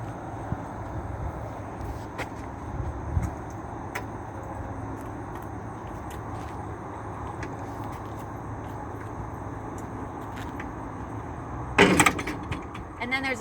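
A steady low rumble runs throughout, then near the end a sharp metallic clunk and click sounds as the cab of an Isuzu NPR HD gas truck is pulled down and latched shut close by.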